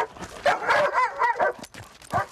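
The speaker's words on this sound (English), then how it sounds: "the first puppies specially bred by and for Devon and Cornwall Police" Young police dog puppies from a litter bred by Devon and Cornwall Police give a run of close, high yips, whimpers and short barks.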